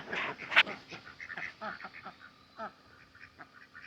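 An injured duck on a small woodland farm quacks in a rapid, uneven string of nasal calls, close by and moderately loud, fading into softer quacks toward the end.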